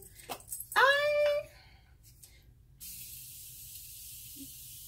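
A continuous mist setting spray is sprayed onto a face, giving a steady, soft hiss that lasts about two seconds after a short vocal sound and a quiet pause.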